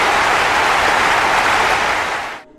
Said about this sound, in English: he receives a massive round of applause